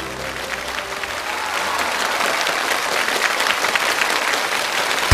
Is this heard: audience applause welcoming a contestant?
yes